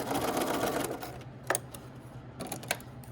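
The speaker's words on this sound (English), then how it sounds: "And then back stitch at the end." A sewing machine runs steadily while back stitching a collar seam, a close continuous whirring chatter that pauses briefly and then resumes in short bursts.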